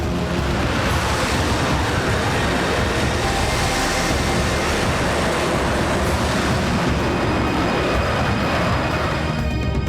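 A Sukhoi 30 MKI fighter jet flies over Tezpur and the Brahmaputra valley, giving a loud, dense, unbroken roar that holds steady from start to finish with no voices.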